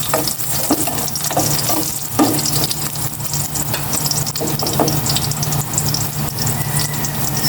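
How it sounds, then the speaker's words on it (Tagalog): Chopped garlic sizzles and crackles loudly in hot cooking oil in a pan, a dense continuous frying hiss with occasional stirring scrapes, up close with no talking. "Igisa ko na po itong bawang."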